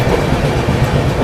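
A passenger train on the Delhi–Darbhanga route rolls along at reduced speed, a steady close rumble of wheels on track with faint rhythmic clatter.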